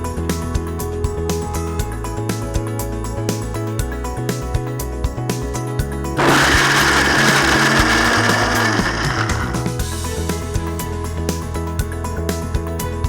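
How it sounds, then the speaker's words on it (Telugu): A kitchen mixer grinder whirs as it grinds coconut, a loud, steady burst lasting about four seconds midway, with lighter mechanical clatter before and after. "మనం కొబ్బరి మిక్సీ పట్టేస్తాం."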